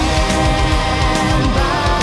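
A dense, loud full-band metal track with a busy low end and bright cymbals, heard briefly with no speech.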